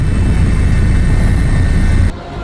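Loud, steady rotor and engine roar from a helicopter flying over a disaster area in Aceh, filling the whole clip before dropping off abruptly near the end.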